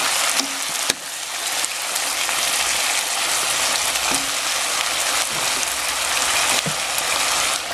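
Chayote sautéing in a pan with fish sauce gives off a steady, loud, dense sizzle, broken by a few soft knocks of stirring.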